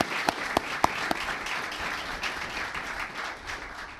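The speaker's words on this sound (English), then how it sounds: "Please give them a round of applause" Applause from an awards audience honoring youth fellowship recipients, opening with a few sharp, distinct claps before settling into a steady, moderately soft wash of clapping that fades slightly toward the end.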